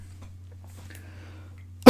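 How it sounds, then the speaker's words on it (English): After near silence with a low hum, one loud, abrupt cough bursts out close to the microphone right at the very end. "Excuse my cough."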